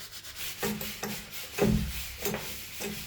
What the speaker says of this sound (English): Give that a real good scrub. That'll clean that off lovely.